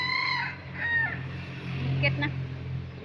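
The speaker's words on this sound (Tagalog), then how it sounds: "Kala mo sa bukid lang may mga manok-manok." Chickens cluck and a rooster crows nearby in Singapore, overlapping short calls over a steady low hum, with some faint voices in the mix.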